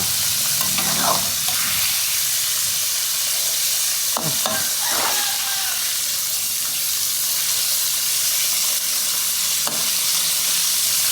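Loud, steady frying hiss of fish in a pan as it is flipped, with a few scraping and clanking spatula sounds early on, no talking.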